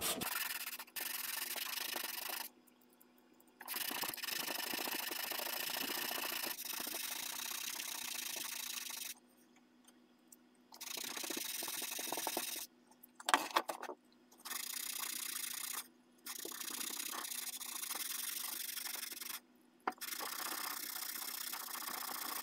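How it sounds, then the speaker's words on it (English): A sandpaper-wrapped rod rubs back and forth in the carved grooves of a wooden military rifle stock, long steady scraping strokes broken by several short pauses. "Running up and over the edge of the grooves with the sanding block"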